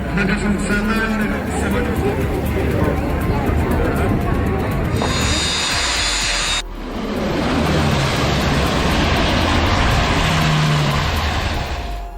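A firefighting water-bomber plane skims the sea to scoop water beside a cruise ship off France, giving a loud, sustained rushing engine roar with heavy spray noise that shifts abruptly in tone partway through.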